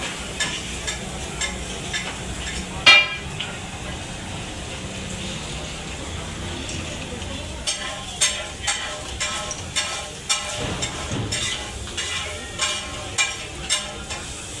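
Steady sizzling and crackling from a masala dosa cooking on a hot griddle over a charcoal stove, with occasional sharp taps and scraping strokes over the constant hiss.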